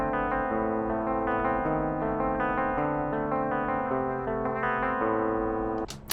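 Electric guitar plugged straight into an RME interface's DI input, strumming sustained chords with a bright, clear tone and layered effects, played alone before cutting off abruptly at the end.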